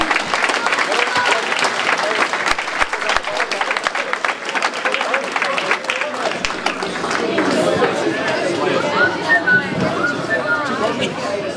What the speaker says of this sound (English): Let's give both young boxers a big round of applause